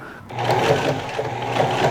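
A sewing machine runs steadily, top stitching the placket of a button-up shirt made from a bed sheet, with a close, continuous mechanical whir and needle chatter after a brief start.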